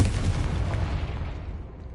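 A Confringo fire spell blast in Hogwarts Legacy, heard as a loud booming burst that rumbles and decays over about two seconds, close and heavy, without talk.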